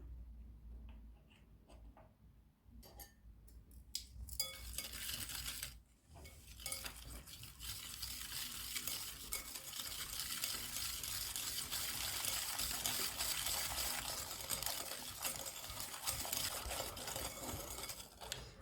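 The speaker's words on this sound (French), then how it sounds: "je vais commencer par mélanger mon sucre et mon œuf" Sugar and egg mixed in a bowl for coconut and banana rochers: a few light taps, then a rapid, steady whisking clatter that grows louder and keeps up without pause, close by and with no talk.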